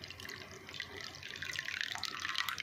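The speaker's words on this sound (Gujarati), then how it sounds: "હવે આપણે એમની અંદર થોડું વધારે પાણી ઉમેરી દઈશું અને આખી તપેલી ભરી લેવાની છે પાણીથી।" Water pours into a metal pot over melted jaggery, a steady running splash that grows fuller and louder as the pot fills, heard alone and close.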